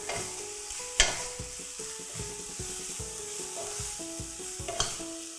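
Crispy catfish stir-fried in a wok with chili and sliced kaffir lime leaves: steady sizzling with repeated scraping strokes of a spatula and a couple of sharp metallic knocks, close and continuous, no speech.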